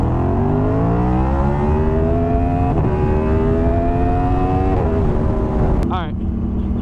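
Aprilia RSV4 motorcycle revving hard in a race launch, engine pitch climbing steadily through long pulls with brief shift breaks, loud and close throughout.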